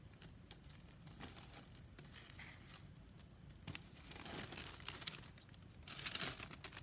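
Soft, close crinkling and rustling of tissue paper being pressed onto wax paper to fill a leaf outline, irregular light crackles that grow busier toward the end, no speech.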